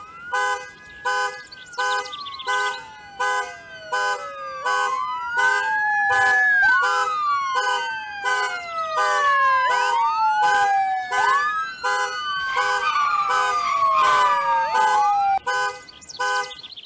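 A police car siren wails loudly and close, its tone sweeping up and down in long, repeated cycles over rapid pulsing electronic beeps, steady for the whole stretch with no talking.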